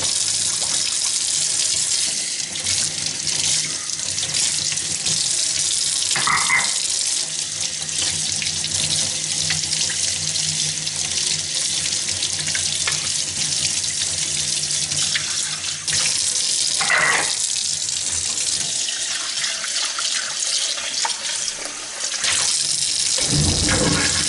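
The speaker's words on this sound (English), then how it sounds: "cleanup is really more of rinsing" Tap water streams steadily into a sink while parts of a Vinci hands-free citrus juicer are rinsed clean, a continuous close splashing wash with a few brief clinks of the pieces being handled.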